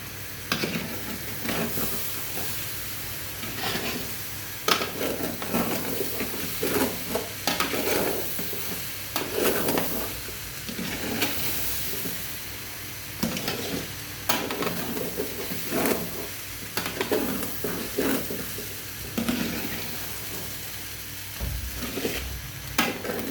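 Khichuri and shrimp curry cooking in a pan, with a spoon scraping and stirring in repeated strokes over steady sizzling and frying, close and loud with no talk.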